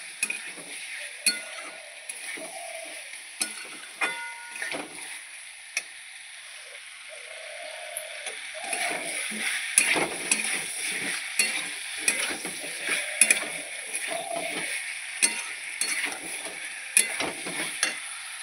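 Egg, soybean and potato curry sizzles softly with spices in a pan, with repeated scraping stirs and light clinks of a utensil throughout.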